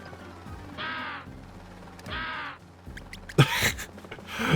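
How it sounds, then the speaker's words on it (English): Two harsh crow caws from a bird in the video game Pac-Man World Re-Pac ring out one after another, loud and close, followed by scattered game clicks and effects. "That bird noise, that's so silly."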